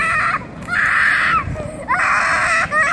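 A young child on a trike lets out loud, high sustained screams in two long bursts separated by a short gap, close to the microphone with brief whimpering sounds between.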